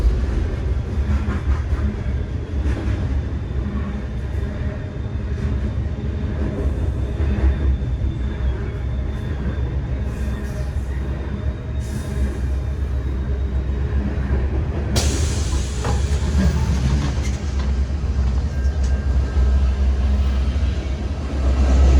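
A Metra commuter train running, heard from on board as a steady loud low rumble with faint wheel clatter and a brighter rush of noise joining partway through.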